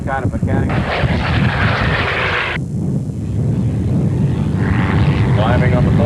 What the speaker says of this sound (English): it's apparent that the Hellcat is experiencing some kind of mechanical